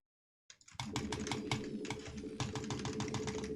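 A computer keyboard clatters close by after a short silence, with rapid, dense keypresses as Shift and Ctrl hotkeys are worked in quick bursts, loud and unbroken with no talk.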